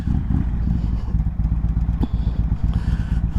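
A 1994 Harley-Davidson Road King rumbles steadily as it is ridden, its deep, loud engine pulsing close by with uneven low throbs and a brief clack partway through.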